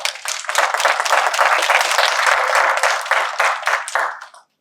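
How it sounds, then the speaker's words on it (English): A seated evening workshop audience in Oakland County breaks into dense, steady applause, loud and continuous for several seconds before fading out to silence, with no talking over it. "So join me with a hand clap"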